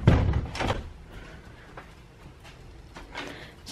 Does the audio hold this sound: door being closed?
yes